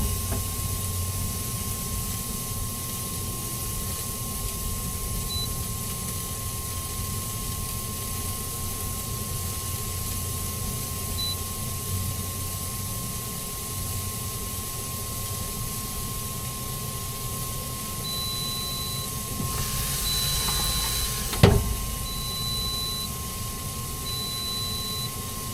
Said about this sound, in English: Got that sizzle going.